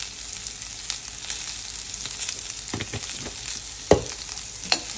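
Onions and curry leaves fry in a pan as they are stirred: a steady soft sizzle with a few scraping stir sounds and clicks, close and moderately loud, with no talking.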